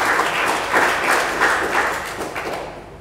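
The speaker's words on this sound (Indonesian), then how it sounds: "Bolehkah kita kasih tepuk tangan untuk Tuhan Yesus?" A church congregation applauding together, a dense wash of many hands clapping with rhythmic swells that fades slightly toward the end, with no speech over it.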